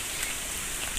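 Rain falls on a concrete village road as a steady, even hiss of drops, close and continuous with no voices.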